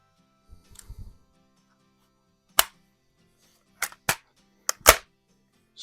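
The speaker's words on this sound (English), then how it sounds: "so I'll shoot a pellet out of this one." A single-stroke air pistol is handled and fired with a pellet: a few faint clicks, then a series of sharp, isolated snaps, each short and close, separated by brief silences in an otherwise quiet room.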